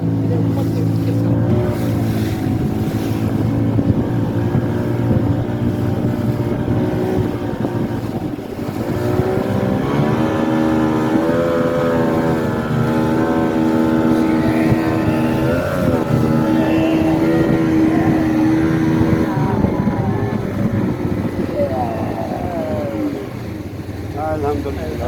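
A motorboat cruising across water in Kashmir, its engine droning steadily and loudly throughout with water and wind noise underneath.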